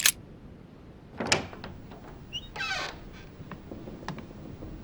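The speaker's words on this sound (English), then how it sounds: "That's the door to Elizabeth's room." A door opens in the video game The Council, a short creak and scrape around the middle, with faint clicks and soft background ambience.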